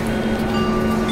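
A Jan Shatabdi Express running Bangalore to Hubballi, hauled by a Hubballi-shed WAP-7 electric locomotive, stands at a station platform with a steady low engine hum and whine, close and continuous.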